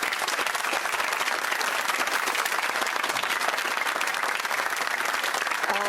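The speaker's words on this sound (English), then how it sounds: "Big round of applause for James and Rhys Benjamin, then." A studio audience on the Countdown game show claps continuously in dense, steady applause at full volume throughout.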